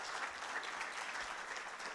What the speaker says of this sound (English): can we give another round of applause to both Dr. Grzanka and Dr. Chris Davids